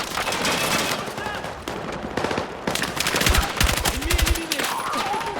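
Battlefield 6 gameplay: bursts of automatic gunfire crackle in rapid, overlapping volleys, loud and dense, with brief snatches of voice in the background.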